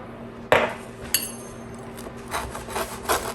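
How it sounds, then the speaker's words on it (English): A sharp crunch followed by scraping and rasping as a crispy meat lovers pizza crust is cut, with a few smaller crackles and knocks afterward. "you can hear how crispy the crust is"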